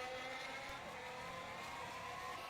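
A Formula 1 car with DRS open runs down the front straight at Estoril during a hot Portuguese Grand Prix qualifying session, its engine a steady, continuous high-pitched drone with no talk.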